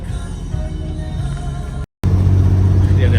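A Borlindo Volvo B8R premium bus climbing a steep uphill road, its engine a steady loud low rumble throughout, briefly cut by a moment of silence before resuming with a stronger drone.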